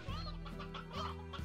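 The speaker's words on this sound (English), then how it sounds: "There are a lot of roosters right now." Roosters cluck in the video game Slime Rancher. A close, clear run of short throaty clucks and warbling calls comes in a quick series, with no voices over it.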